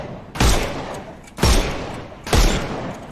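Three heavy gunshot blasts from the Sherlock Holmes Chapter One video game, evenly spaced about a second apart, each a loud sharp boom with a decaying tail.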